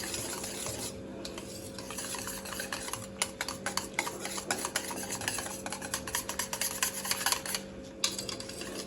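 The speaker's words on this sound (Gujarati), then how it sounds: "ચણાનો લોટ ઉમેરીને આપણે બધું મિક્સ કરી દેવાનું છે" Rapid, repeated scraping and tapping of a spoon stirring a thick gram flour batter in a bowl, close up, with a faint steady hum behind.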